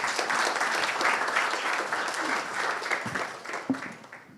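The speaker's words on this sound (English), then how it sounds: "Another round of applause, please." An audience at a cybersecurity meetup gives a round of applause, a dense steady clapping that thins out toward the end with a few distinct individual claps.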